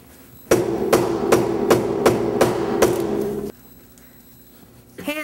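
A hammer strikes an iPod music player seven times in a steady rhythm, each hit loud and close with a hard ringing crack, then the blows stop and a quieter room tone remains.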